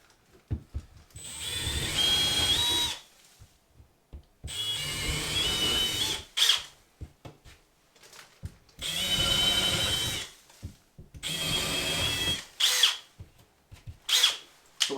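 A power drill boring holes into a wall for a Samsung Frame TV bracket, in four long whining bursts of a few seconds each separated by pauses, with short clicks and handling sounds between.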